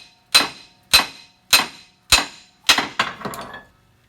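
Hammer blows driving a U-joint cap onto a front axle yoke: five sharp metallic strikes at a steady pace roughly half a second apart, then a quick flurry of lighter taps, close and clear with no talk.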